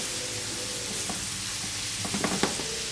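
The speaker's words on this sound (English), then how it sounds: "beef browning in butter" Beef browning in butter in a restaurant pan over medium-high heat, a steady close sizzle with a few brief stirring clinks and scrapes toward the end.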